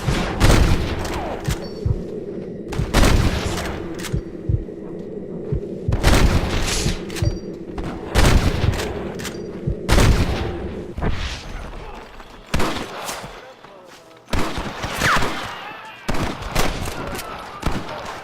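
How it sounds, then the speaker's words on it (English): Gunfire in the video game Red Dead Redemption 2, a shootout with repeated loud close rifle and pistol shots in bursts and scattered single blasts with echoing tails, under in-game shouting. "Rustler guards! Gun them down!"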